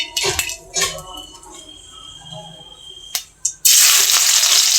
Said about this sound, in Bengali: রসুন কুচি দিয়ে দিলাম।